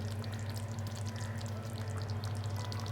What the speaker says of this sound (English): Final stage, around 3 tablespoons of fresh cream goes in.